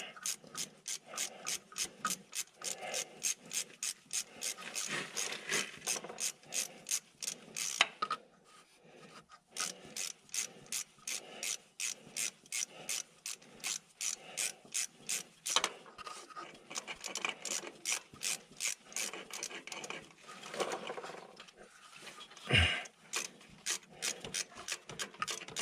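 A socket ratchet runs exhaust manifold studs in on an old car, making long trains of fast, even clicks close by, broken by short pauses and a few knocks.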